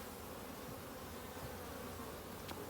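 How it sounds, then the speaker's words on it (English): Honey bees drone in a steady, dense buzz inside a hive, a close, continuous hum with no pauses. "there's a lot of bees in there"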